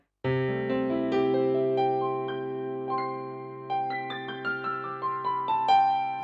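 A Kawai KDP120 digital piano on its EX Concert Grand voice plays a slow passage of sustained chords and single notes, each attack ringing out and decaying, close and clear with no voices.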